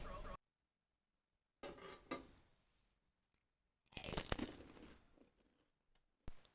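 Homemade panipuri is eaten up close in short crunchy bursts of biting and chewing separated by near silence, with a louder, longer crunch in the middle and brief clicks of dishes.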